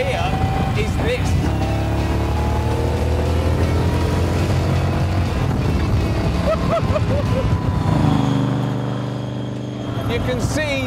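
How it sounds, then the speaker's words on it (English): Morgan 3 Wheeler's two-cylinder S&S V-twin exhaust heard from the cockpit at speed, a loud continuous throbbing drone with shifting pitch and road and wind roar, close to the exhaust outlet. "The exhaust is just over my right shoulder, and all my right ear can hear is this."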